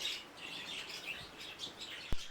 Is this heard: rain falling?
no